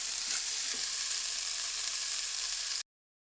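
Tomato pieces softening in a kadai pan give a soft, even sizzle with faint stirring scrapes, close and fairly quiet, lasting under three seconds before cutting to silence.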